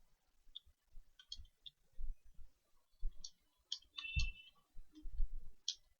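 Someone types an address into Tally accounting software on a computer keyboard, producing sparse, soft close-up key clicks in irregular small clusters with quiet gaps between them.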